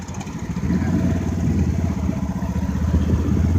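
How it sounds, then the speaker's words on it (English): Antique tractor engines chug loudly nearby at a steam and gas engine show, with a rapid, rhythmic put-put clatter that holds steady throughout. "a lot of these tractors are running, and it's very loud."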